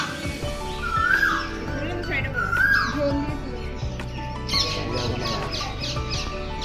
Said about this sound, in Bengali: প্রচুর পাখির বাস।